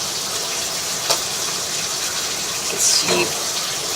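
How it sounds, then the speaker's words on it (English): Bathtub water rushes into a root-clogged sewer line, a steady gushing hiss heard from inside the pipe, with a brief clank and a few spoken words. "So that's our tub water coming into the system."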